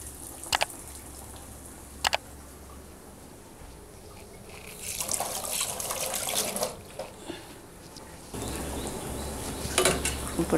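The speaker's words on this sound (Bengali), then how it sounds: "এখন আমি এটা তেলের মধ্যে ছেড়ে দিব দেওয়ার সময় একটু সাবধানে দিবেন যেহেতু তেলটা গরম আছে" Batter-coated bread pakora is lowered into hot oil and sizzles with a bursty, crackling hiss that swells midway and continues unevenly, with a few sharp clicks near the start.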